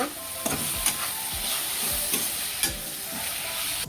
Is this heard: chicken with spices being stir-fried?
yes